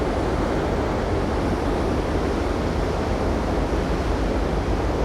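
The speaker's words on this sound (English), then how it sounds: "Don't know if you guys can hear the churning water." Loud, constant roaring rush of water churning beside a ferry, dense and steady like a waterfall, close and continuous with no pauses or voices.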